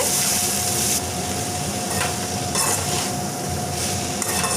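Spoon stirring cooked broad beans with boiled moong dal in a pan, soft scraping and sizzling strokes that come and go in a steady rhythm, close up.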